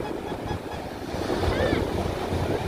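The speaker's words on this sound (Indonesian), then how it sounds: "Ombaknya lama-lama semakin besar, teman-teman" Ocean waves break at Bocor beach in Kebumen, a continuous rushing wash of surf mixed with wind buffeting the microphone, growing slightly louder toward the end.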